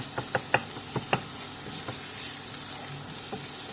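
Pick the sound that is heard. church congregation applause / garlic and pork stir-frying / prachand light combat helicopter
garlic and pork stir-frying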